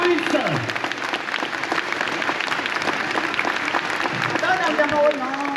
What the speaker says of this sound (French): On peut applaudir très fort, s'il vous plaît.